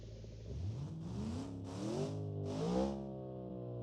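Twin-turbo V8 of about 1100 hp in a BeamNG hatchback revving in a video game, a series of rising engine pulls with climbing pitch, moderately loud and close, no talk.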